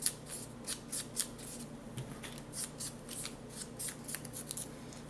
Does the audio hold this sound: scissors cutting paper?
yes